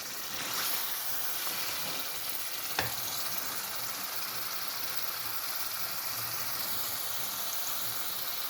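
Potato and pea curry fries in a pan with masala, giving a steady close hiss and sizzle, with one sharp stirring knock early on.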